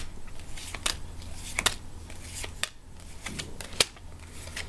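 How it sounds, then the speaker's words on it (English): Character cards from a Game of Thrones: Westeros Intrigue board game are shuffled by hand, giving a series of sharp riffling snaps and soft sliding shuffles, close and fairly quiet, with no talking. "I'm going to shuffle them"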